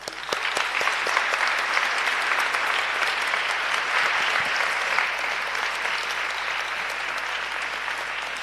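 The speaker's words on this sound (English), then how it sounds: "So, Raffaella Agliano, let's give her a big applause." Sustained audience applause fills a hall at a Model UN opening ceremony, a dense, steady wash of many hands clapping at a constant level for several seconds without speech.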